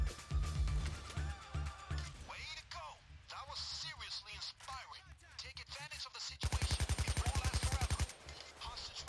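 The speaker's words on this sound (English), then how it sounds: "Yep, Russian AK, yo!" AK rifle fire in the video game Payday 2 during a jewelry store robbery, with scattered single shots and then a loud rapid automatic burst near the end, mixed with game sounds and someone talking.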